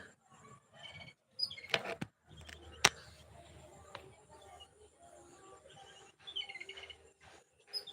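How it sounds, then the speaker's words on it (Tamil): Scattered sparrow chirps and tweets sound faintly from a distance among neem trees, mixed with insect buzzing and a couple of sharp clicks in a quiet outdoor setting. "மலர் சிஸ்டர், பின்னாடி குருவி சத்தம் கேட்குதுன்னு சொல்கிறாங்க."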